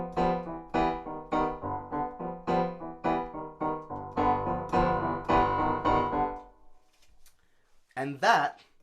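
The intro melody of a musical song plays as a run of bouncy, evenly spaced notes, then stops, and a voice briefly speaks afterward.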